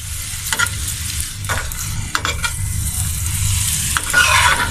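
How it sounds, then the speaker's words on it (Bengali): Milk and sugar paratha shallow-frying in a little oil, a steady close sizzle with occasional soft scrapes and spatula taps against the pan throughout. "আমি হালকা তেলে আমি ভেজে নিচ্ছি পরোটাটাকে"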